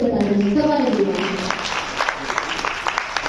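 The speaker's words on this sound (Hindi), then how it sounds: "आप सभी लोगों को कैसा लगा एक बार अपनी तालियों से बता दीजिए।" Audience applause at an event fills the room, dense and steady clapping, with a voice speaking over the opening second before the clapping carries on alone.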